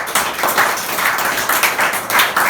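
A church congregation claps together in a steady, close rhythm of loud, fairly even beats, with no voices over it.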